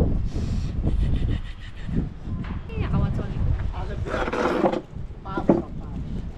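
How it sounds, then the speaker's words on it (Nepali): Cold winter wind buffets the microphone outdoors in deep, gusty rumbles, with a person talking over the blustery noise throughout. "कस्तो चिसो हावा"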